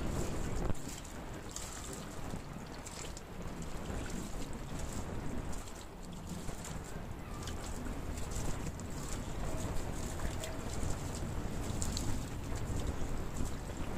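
Heavy rain pounding steadily against a window, a dense continuous hiss and patter with a low rumble underneath, close and constant throughout.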